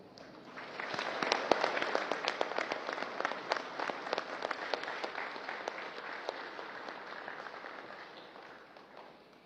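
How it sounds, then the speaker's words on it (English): Warm applause from a large ceremonial crowd welcoming the President of the Philippines, a dense patter of many hands swelling quickly and then slowly fading over several seconds. "please welcome with a warm round of applause the President of the Republic of the Philippines, Ferdinand Romualdez Marcos Jr."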